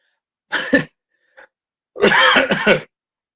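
A person coughs twice, a short burst, a tiny catch, then a longer harsher cough, close up with quiet in between.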